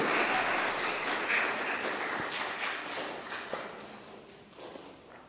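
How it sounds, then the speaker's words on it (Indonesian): An audience at a Catholic choir competition claps, steady dense applause that is loud at first and gradually thins and fades, with no voices over it. "Kita beri tepuk tangan untuk paduan suara nomor undi"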